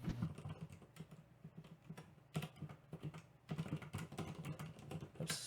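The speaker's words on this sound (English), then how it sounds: "I'm sorry for all the keyboard noise I might be making in the stream, because I was typing some stuff" Fingers tap a computer keyboard in quick, uneven bursts of clicks with short pauses between runs. The keys sound close and moderately loud, with no one talking.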